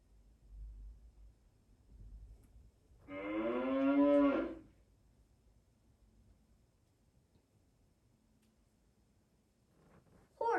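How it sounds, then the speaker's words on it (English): A single cow moo, one long lowing call lasting just over a second, clear and fairly close against a quiet background, with no other sounds around it. "Cow."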